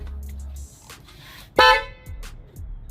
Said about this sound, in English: once you activate the horn, it's going to shake